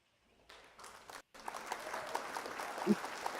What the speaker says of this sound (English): The crowd is going wild. Applause!